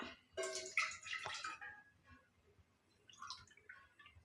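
Milk poured from a tumbler into a pot for boiling on a gas stove, a soft liquid splash and trickle that lasts about a second and a half, then fades to quiet with a faint clink near the end.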